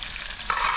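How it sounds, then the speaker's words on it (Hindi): Tomatoes, capsicum and peas fry in oil in a home kitchen as a utensil stirs them, a close, soft sizzle with scraping stir sounds that grow brighter halfway through. "इसमें मटर भी छोड़ देंगे पहले तेल में पाक जाए अच्छी तरह"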